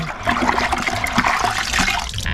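Cooking liquid from a pot of traditional West African agidi is poured away, giving a close, loud, continuous gushing and splashing of water for a couple of seconds with no talk.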